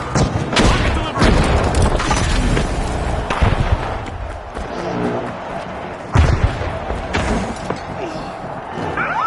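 Rocket blasts and explosive detonations boom repeatedly in The Finals shooter game, loud and close, with heavy thuds and crackling debris over constant in-game noise and chatter.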